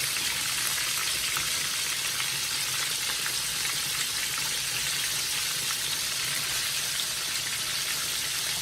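Steady, hissing sizzle of breaded pork chops frying in hot oil, constant and fairly close, with no voices.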